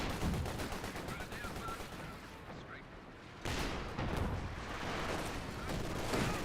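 Machine gun fire rattles through a Company of Heroes 2 battle as sustained, dense bursts of gunfire and explosions, loud and continuous, with a louder surge partway through and voices speaking underneath.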